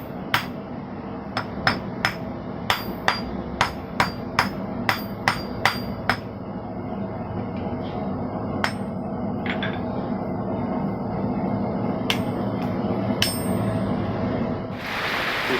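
Rapid hammer blows ring out as steel is hand-forged on an anvil, a quick steady series, then scattered single strikes over a low background rumble.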